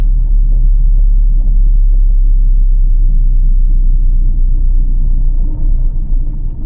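Steady, smooth low rumble of a car cruising in third gear at about 30 km/h on a night city drive through Chennai, continuous and close with no voices.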